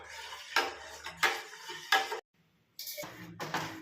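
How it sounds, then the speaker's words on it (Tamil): Ragi malt stirred steadily in a pan, a spoon scraping and clinking against the metal in repeated bursts, close and fairly quiet, with one short silent gap midway. "நல்லா 10 மினிட்ஸ்க்கு நல்லா கைவிடாமல் மிக்ஸ் பண்ணிகிட்டே இருக்கணும்"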